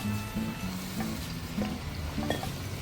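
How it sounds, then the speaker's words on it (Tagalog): Squid goes into a hot pan with garlic and sautés with a steady close sizzle and frying crackle, while utensils stir and clink now and then and no one speaks. "So, ready na yung bawang, lagay na natin yung squid."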